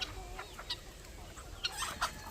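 Chickens on a homestead farm cluck in short, scattered bursts of soft calls, fairly quiet and a little distant, with no one talking.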